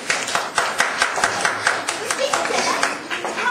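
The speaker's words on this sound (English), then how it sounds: "Everybody clap." Kids' play audience clapping in scattered, uneven bursts throughout, with voices chattering underneath the applause.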